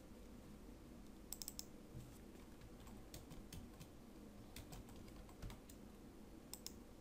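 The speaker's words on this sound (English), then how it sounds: "all you need to do is you type in what you wanted to say" Keys on a computer keyboard clatter in quick, irregular taps, fairly faint and close, with a few louder clicks scattered through the run of typing.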